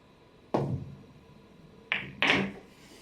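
Pool balls struck on a table in a shot played off the point of the pocket, three hard knocking clacks, one alone and then a quick pair, close and clear in a quiet room.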